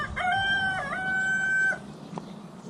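A young cockerel crows once, a thin, wavering, somewhat strained call held for over a second before breaking off, with quiet background afterward.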